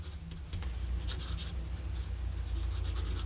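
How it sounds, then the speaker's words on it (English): Lamy AL-Star fountain pen with a fine nib and Lamy Prussian blue ink scratching across paper in close, soft strokes, a steady papery rasp broken by short lifts of the nib. "This is a fine nib, and my ink is Lamy"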